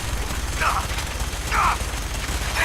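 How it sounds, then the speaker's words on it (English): Bursts of gunfire rattle in the Fallout 4 video game during a firefight at Mass Fusion, rapid shots under a continuous noisy backdrop with voices in the mix. "Taking fire!"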